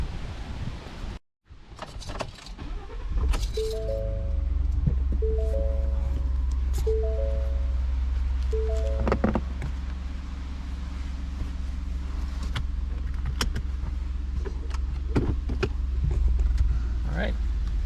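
A truck door thuds and rattles, then a repeating chime sounds four times before the engine starts and settles into a steady low idle, with a few more clicks and knocks on top.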